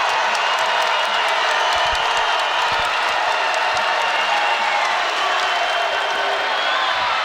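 Basketball arena crowd during a Big Ten women's game between Indiana and Iowa roars with sustained cheering and applause, a dense, steady wall of noise with no clear break.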